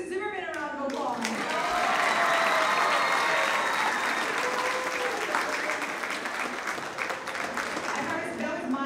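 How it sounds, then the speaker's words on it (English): Audience at a 6th and 7th grade spring school choir concert breaks into a loud, sustained round of applause, with voices and faint cheering mixed in and a voice heard at the start. "Let's give Mrs. Zimmerman a round of applause."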